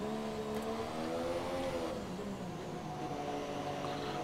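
Damaged Formula 1 race car engine in the F1 2017 racing game at Baku, a steady droning whine with shifting harmonic pitch, sustained and fairly loud with no talk.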